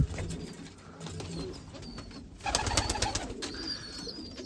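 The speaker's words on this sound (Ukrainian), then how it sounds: "дуже хороший голубочок, такий невеличкий" Crested flying pigeons coo softly in a loft, with low repeated coos, scattered chirps and fluttering, and a louder burst of activity midway. The birds are fairly close and no one speaks.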